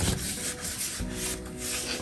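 Steady rough rasping of sandpaper scrubbing a painted roof, continuous back-and-forth strokes, close and moderately loud with no talking.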